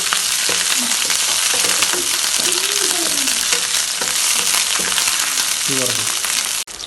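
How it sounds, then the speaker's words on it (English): Loud, steady sizzling of curry leaves and green chilies frying in hot oil, with occasional crackles and stirring clatter throughout. "the oil is hot. So I'm going to add some curry leaves and some green chilies"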